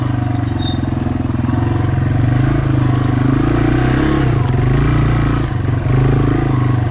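A Yamaha TW200 motorcycle putters along in first gear through woods at a slow, trials-like pace, its engine thrumming steadily and loud, with slight surges and dips in throttle throughout.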